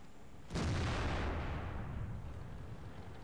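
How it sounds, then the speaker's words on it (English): A WZ tank firing an HE shell in World of Tanks: one sharp, heavy cannon boom that rolls into a long, deep fading rumble. "Now that WZ is starting to fire HE at me."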